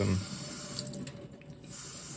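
Tap water runs briefly onto a diamond lapping plate and a sharpening stone, a soft steady splashing hiss close by, with no talking.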